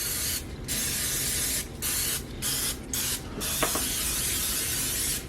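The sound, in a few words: non-stick cooking spray sprayed onto muffin pan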